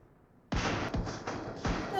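Three sharp gunshots crack in quick succession after a quiet moment, loud and close, each with a booming low thump.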